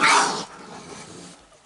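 Dog growls and snorts briefly near the start, a short close rough burst that fades to quiet.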